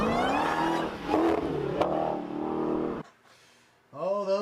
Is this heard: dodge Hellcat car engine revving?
yes